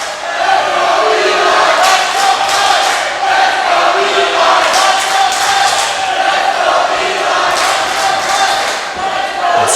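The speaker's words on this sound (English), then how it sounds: "Crowd is already feeling hot here, and you can hear the support for Eli Knight" Wrestling crowd at a live event cheering and shouting loudly throughout, a dense steady roar of many voices with occasional louder swells.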